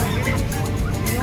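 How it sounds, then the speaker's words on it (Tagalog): Dense, noisy din at a livestock market with geese honking among other fowl, loud and continuous throughout. "Mga ganso ang dating dito."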